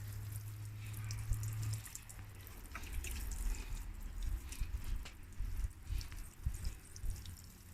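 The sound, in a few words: watering potted plants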